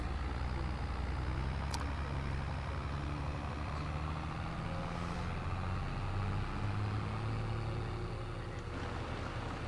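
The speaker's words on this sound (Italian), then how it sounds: "Bello, bel trattore." Steady, low engine drone of a tractor idling in Farming Simulator 22, constant and unbroken, with no voices over it.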